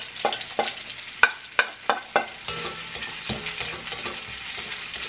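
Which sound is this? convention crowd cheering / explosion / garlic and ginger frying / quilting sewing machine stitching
garlic and ginger frying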